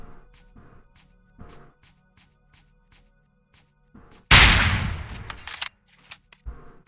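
A Ruger gun fires in a video game, with a string of sharp, evenly spaced clicks or light shots followed by one loud, close blast whose crackling decay lingers, then a couple of smaller thuds.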